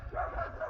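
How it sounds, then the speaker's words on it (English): A neighbour's dog gives a few soft, muffled barks and yips from somewhere off at a distance, quiet and brief, with no voices present. "That's the neighbour's dog."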